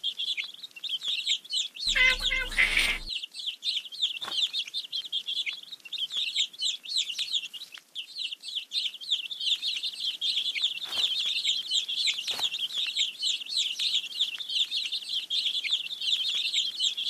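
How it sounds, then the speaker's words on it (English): Baby birds chirp continuously in a preschool math app game, a dense, high, twittering chorus that stays loud and steady throughout, briefly interrupted by a short electronic effect near the start. "Let's feed the hungry baby birds with some seeds."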